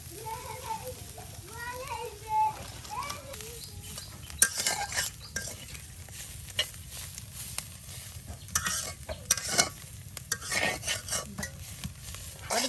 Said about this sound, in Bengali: শাকগুলো এখন পেঁয়াজের সাথে উলট পালট করে দেওয়া হলো।